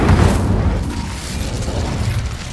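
The Incendio fire spell cast in Hogwarts Legacy, a loud close whooshing burst that fades into a rumbling flame roar lasting a couple of seconds.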